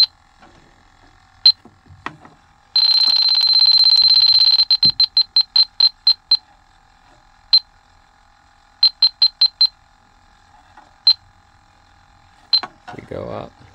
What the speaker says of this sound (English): Here's our leak detector. You can see it peaked all the way up.